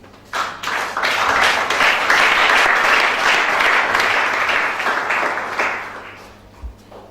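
A church congregation bursts into sustained, loud applause that swells for several seconds, then thins and fades out.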